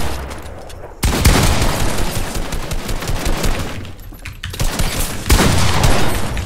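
Dense, sustained gunfire in a Fortnite solo box fight, with bursts of rapid shots from close range that swell loud after a brief quieter lead-in and keep going nearly without a break.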